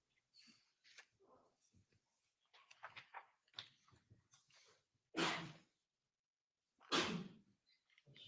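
Two sharp, loud sneezes about two seconds apart, each a sudden burst standing well above the scattered rustles and faint background sounds of a courtroom setting.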